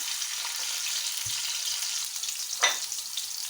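Chopped onions hit hot oil, about two tablespoons, in a frying pan and sizzle with a steady bright hiss, with a soft clack partway through and a brief louder spit near the end.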